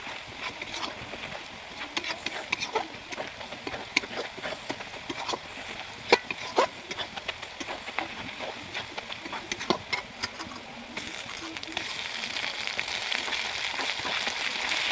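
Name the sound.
garlic frying in pan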